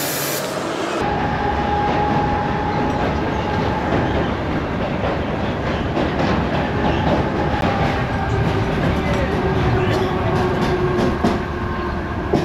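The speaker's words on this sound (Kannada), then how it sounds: "ಲೋಕಲ್ ಟ್ರೈನ್ನ ಹಿಡ್ಕೊಂಡು CSTಯಿಂದ ಅಂಧೇರಿಗೆ ಬಂದೆ." A Mumbai local train runs steadily, with a loud, continuous rumble and rattle of carriages and a constant high whine throughout, no talk over it.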